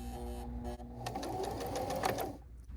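A Kenmore sewing machine stitching in reverse makes a steady, rapid mechanical whir with a rhythmic needle tapping, close and quiet, running continuously with no talk.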